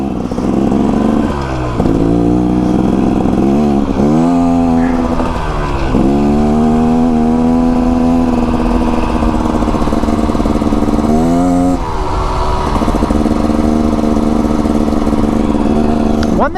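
A 2024 Beta Xtrainer dirt bike engine runs throughout a first break-in ride, loud and close, with a steady buzzing drone that repeatedly rises and falls as the rider revs and shifts.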